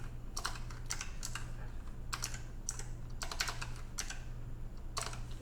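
A mechanical keyboard clatters in short bursts of crisp clicking keystrokes, close and fairly quiet over a low steady electrical hum, with brief pauses between flurries.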